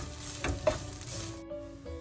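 Grated coconut fries in ghee with a steady, close sizzle, broken by a few soft stirring scrapes against the pan.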